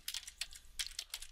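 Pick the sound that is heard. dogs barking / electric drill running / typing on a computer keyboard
typing on a computer keyboard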